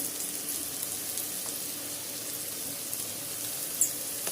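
Bell peppers and carrot sauté in hot oil with a steady, soft sizzle at a low level, continuing evenly throughout with no talking.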